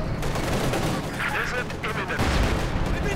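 Tank cannon fire in the video game Company of Heroes 2 as Panzer IVs battle, a dense rumble of booming shots and explosions with rattling gunfire layered in the mix.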